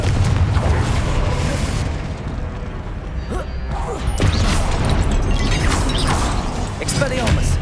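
Confringo fire blast spell explosions in Hogwarts Legacy: loud, continuous booming blasts and crackling impacts keep coming in a busy game battle, with a voice shouting spell names over them.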